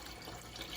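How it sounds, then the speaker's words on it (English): Water is poured into a pot to cover dried red beans, making a soft, continuous splashing and trickling that is faint and brief with no talking. "I'm gonna take enough water. I wanna take and cover these beans."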